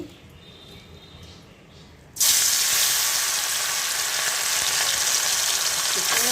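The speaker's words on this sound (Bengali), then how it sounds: "এখন এটা ফ্রাই করবো" Quiet background, then a sudden loud burst of crackling, hissing sizzle as small mourala fish hit hot oil in a kadai, continuing steadily and evenly.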